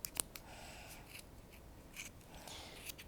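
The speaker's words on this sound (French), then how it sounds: "glisser votre ciseau entre les deux cartons pour couper plus facilement" Scissors snip through layered cardboard in a few close, quiet cuts, with soft scraping between them and no speech.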